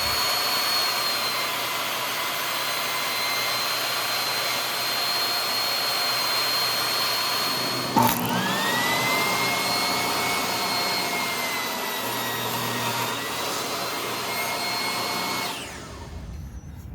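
A saw running steadily with a crosscut sled, cutting cherry and leopardwood boards to length, a continuous loud whirring whine with a brief knock midway before the motor spins down near the end.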